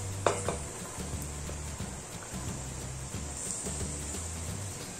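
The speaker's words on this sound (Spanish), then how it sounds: "Y ahora en ese juguito vamos a echar la cebollita y vamos a echar también la zanahoria." Chopped onion and carrot dropped into hot pan juices for a beef stew, giving a soft sizzle with scraping and stirring of a utensil against the pan, close and fairly quiet, with no talk.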